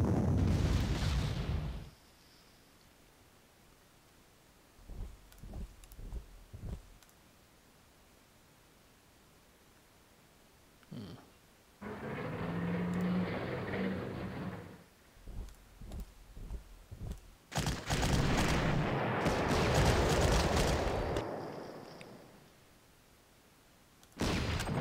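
Artillery in the wargame Panzer Corps fires in several separate bursts, each a heavy noisy blast with a lingering roar, broken up by quieter clicks and gaps of near-silence between them.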